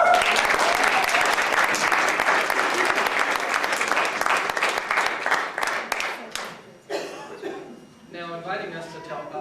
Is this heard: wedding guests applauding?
yes